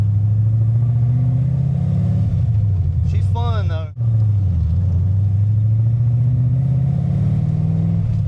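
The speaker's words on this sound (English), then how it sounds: "Just listen to the engine of the car." A Ford car engine in a car with no gears drones low and steady throughout, briefly swelling as it revs, while a voice speaks over it.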